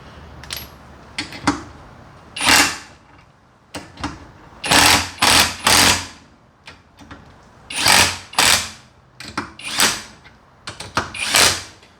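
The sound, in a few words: OUHOUG 21V compact impact wrench running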